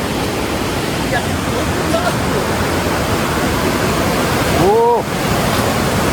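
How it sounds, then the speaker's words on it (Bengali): Rain-swollen waterfall at Rocky Island gives off a steady, dense rush of falling water that fills the whole stretch, with a brief voice rising over it near the end. "নিচের থেকে দেখুন ঝর্ণার জল আসছে"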